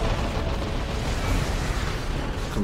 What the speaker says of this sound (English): Bang! This truck is going down.